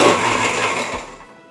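Blender mixing a drink with vanilla frosting, a loud close motor whir that runs steadily and then winds down to a stop.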